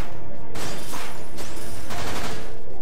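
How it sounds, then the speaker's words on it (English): Rapid rifle fire from Vincent during a limit break in the video game Dirge of Cerberus: dense, loud bursts of automatic shots rolling together in waves with brief dips between, and no talking. "Everything fires faster and you've got unlimited ammo."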